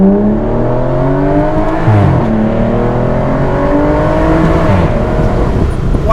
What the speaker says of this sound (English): let's hear this beautiful V12 one more time.